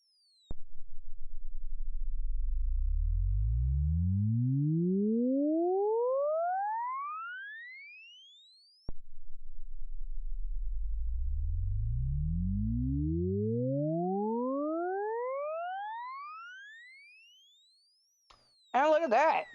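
Synthesized sine tones from a JSFX/YSFX plugin in Bitwig sweep steadily upward in pitch with stacked harmonics, twice in a row. Each sweep fades as it rises, and a brief burst of speech follows at the end.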